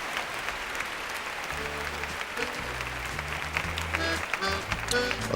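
Applause from the crowd at the 2005 European ballroom dance championship semifinal in St. Petersburg, a steady wash of clapping from the hall with music rising beneath it toward the end.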